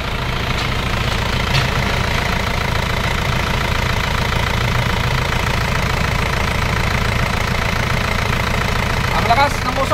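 A white-smoking Isuzu Crosswind with a 4JA1 diesel engine runs steadily, a continuous loud idle with a dense, rattly knock throughout and some background voices.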